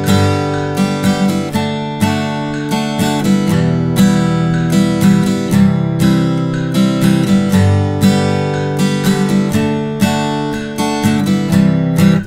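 Acoustic guitar strumming a pattern played straight without swing at about 120 beats per minute, steady close-up down-and-up strokes ringing continuously for several bars with no talking.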